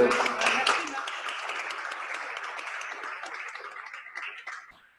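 An audience at a formal launch event applauds in a broad wash of clapping that slowly fades away, while a voice speaks over it.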